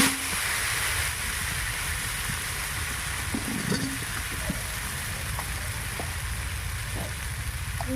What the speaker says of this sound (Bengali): একটু অল্প করে নুন এখন দিয়ে দিচ্ছি, টমেটোটা ভালো করে ভেজে নেওয়ার জন্য।